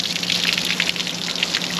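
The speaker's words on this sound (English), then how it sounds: "So I'm going to turn on a little water pressure." Pressurized water runs steadily to flush Yamaha 150 outboard motors in a workshop, a continuous hissing spray with no pauses.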